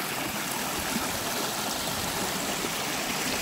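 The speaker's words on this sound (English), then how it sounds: "where this beautiful little stream runs down" A small moorland stream on Dartmoor runs steadily close by, a constant, even rushing and splashing of water with no other sounds.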